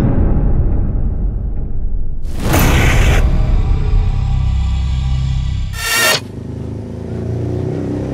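A costly motorcycle's engine rumbles steadily up close, broken by two sharp rushing bursts as it revs, with no one speaking.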